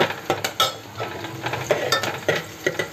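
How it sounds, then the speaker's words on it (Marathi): Onion frying in hot oil with curry leaves on a full gas flame, a steady crackling sizzle close by, broken by repeated sharp clicks and scrapes of a spoon stirring against the pan. "कांदा चांगला आपण भाजून घेऊया."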